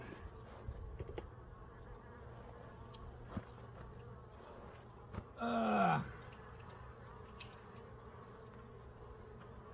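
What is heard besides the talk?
bees buzzing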